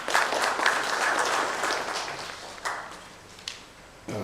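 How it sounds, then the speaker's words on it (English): An audience at a corporate bond market event claps after a Bombay Stock Exchange chief is introduced, a dense burst of applause that tapers into scattered individual claps. "A huge round of applause."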